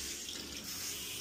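Water running steadily from a tap into a sink in a UK home with a faulty tap, a brief continuous splashing gush, close and even in level, no talking.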